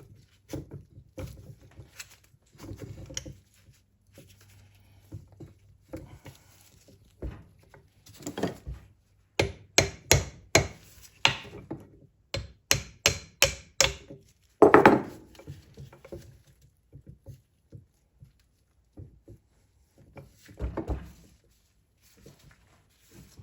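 A wooden dowel is tapped to drive the lay shaft out of a Triumph Spitfire transmission during a rebuild: scattered light knocks that build into a run of sharp, close hammer strikes, then ease off into softer taps.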